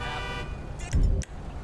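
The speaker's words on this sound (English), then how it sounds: "Alright, that's a honk." In the GTA LSPDFR police mod, a car horn honks in short toots over a steady engine rumble, followed by a heavier thump.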